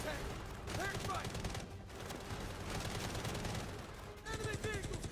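Video game gunfire and explosions: dense, continuous bursts of automatic fire and booms fill the whole stretch loudly, with shouted voices over the battle.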